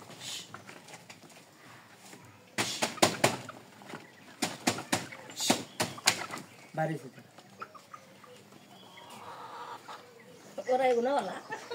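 Farm chickens cluck and squawk nearby in short, uneven bursts, with louder flurries of movement early on and a person's voice mixed in among the birds.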